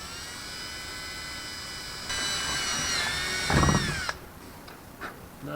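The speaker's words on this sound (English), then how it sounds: "by drilling it step by step like this, I do make a cleaner hole" A power drill bores a hole step by step in a part for a Challenger 2 ultralight airplane low fuel light installation, a steady whining motor that rises in load, then stops, followed by a few faint clicks.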